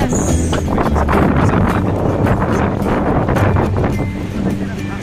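Gusty, cold wind buffets the microphone in a steady roar in Sagada, with a low rumble and occasional splashy bursts throughout.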